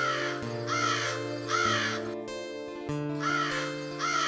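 A cartoon crow in a jungle animation caws in repeated harsh calls, loud and close, separated by short pauses over a background music track.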